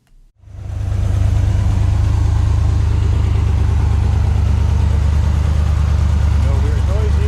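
A 1970 Chevelle SS V8 idles steadily and loudly after a brief start, a deep continuous rumble with a slight exhaust leak, running alone with no voices.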